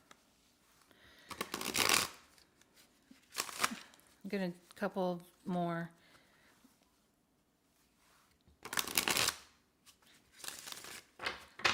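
Deck of playing cards being shuffled, several crisp riffling bursts of about a second each spaced through the clip, with a voice talking briefly between them.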